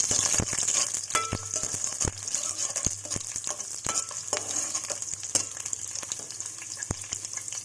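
Onions frying in oil in a pan, a steady close sizzle throughout, punctuated by sharp scattered clicks and taps of a utensil against the pan.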